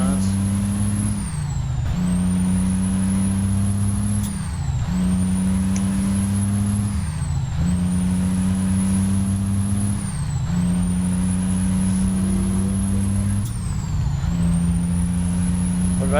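A heavy truck engine in American Truck Simulator drones loudly and steadily, rising in pitch in repeated revving cycles about every three seconds, each followed by a brief drop as it shifts.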